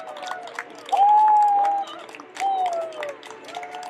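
An audience at a senior village award ceremony claps in scattered bursts beneath a speaking voice that carries over the room.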